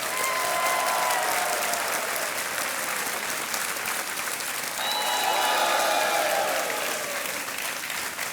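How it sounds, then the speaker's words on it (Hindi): A studio audience on a quiz show applauds a contestant's winnings, continuous dense clapping that holds loud and steady from start to finish with no talk over it. "तालियां बजती रहनी चाहिए इनके लिए।"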